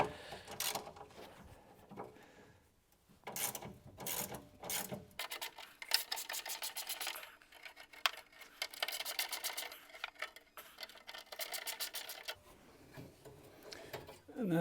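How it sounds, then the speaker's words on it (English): Deep socket ratchet backing out 5/16 inch nuts and bolts during an interior strip, giving a run of close, uneven clicking and grinding bursts with short pauses between them. "we're going to remove those with a deep socket 1/8 inch drive"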